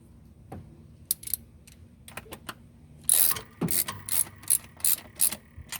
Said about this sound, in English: I'm gonna need a new ratchet. My ratchet is giving out.